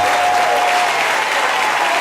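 A church congregation claps loudly and continuously in praise during a religious conference, a dense sustained wash of hands with a faint tone held beneath it.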